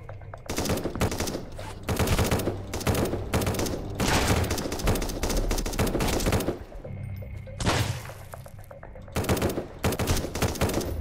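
Rapid bursts of gunfire in the survival game Sunkenland on a ruins island: loud automatic volleys with only brief pauses, fired repeatedly over the whole stretch and heard without talk.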